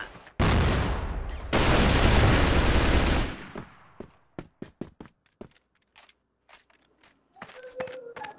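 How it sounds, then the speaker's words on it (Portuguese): Gunfire in the shooter game Crossfire, loud sustained automatic bursts followed by a string of single sharp shots that thin out, then a short quieter stretch. "eu tô escutando o tiro aqui"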